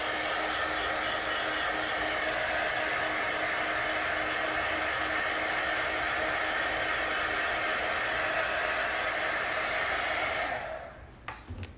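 A hair dryer blows steadily and loudly at close range onto chalk paste for about ten seconds, then cuts off abruptly and leaves a short near-silence with a few small clicks.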